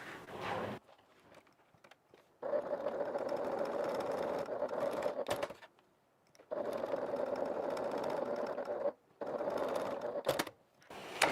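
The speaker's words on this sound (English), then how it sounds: "we're going to go ahead and top stitch this down each side" A sewing machine top stitches down the sides of an evening bag in three sustained runs of steady, whirring stitching, separated by short quiet pauses.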